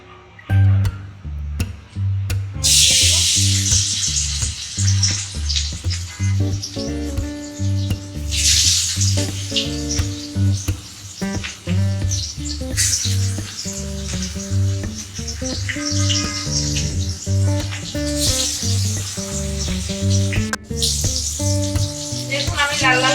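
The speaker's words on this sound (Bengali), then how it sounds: "রুই মাছের ঝাল করার জন্য আমাদের মাছটা খুব কড়া করে ভেজে নিতে হবে।" Rohu fish pieces deep-frying until crisp in hot oil, with a steady crackling sizzle running beneath loud melodic background music throughout.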